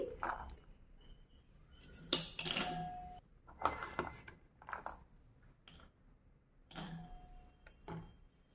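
Pomegranate seeds pressed with a wooden masher to squeeze out juice, giving a series of irregular knocks, squishes and clinks against the bowl, close by and fairly quiet, with brief pauses between strokes.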